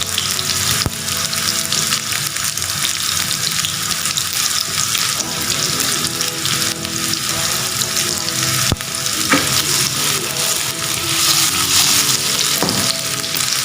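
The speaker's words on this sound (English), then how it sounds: "Nicely getting fried in the olive oil." Food fries in olive oil in a pan, a loud, continuous, close sizzle with occasional clinks and stirring sounds throughout.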